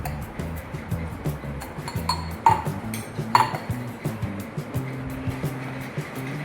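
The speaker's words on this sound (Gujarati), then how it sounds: "બધા વાસણ આપણે હજી ચોકડીમાં પડ્યા છે બધા રાખી દેવાના" Dishes and utensils are put away from the home washing area, with a couple of sharp metallic clinks and soft clatter over a low, steady background rumble.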